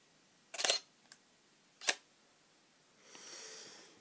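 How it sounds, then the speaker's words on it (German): A digital single-lens reflex camera fires its shutter: a sharp mechanical click-clack, a small tick, then another crisp click, close and isolated in a quiet room, followed by a soft whirring hiss. "visiere die Ente an und löse dann hier oben am Auslöser aus"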